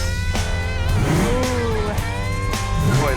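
A classic car engine revs hard several times close by, each throttle blip rising in pitch and falling back to a throbbing idle, loud and alone.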